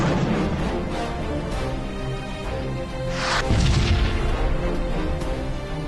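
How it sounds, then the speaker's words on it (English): Hell Dart missiles striking a target in the space combat game Sunrider, a loud booming impact midway over a steady, full background of game music and effects. "Fire me a missile at the other target. Firing Hell Dart missiles,"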